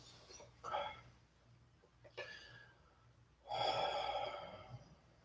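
Breathing during yoga sun salutations, a few soft audible breaths and airy exhales at close range, with a longer drawn-out breath near the end and a quiet room behind.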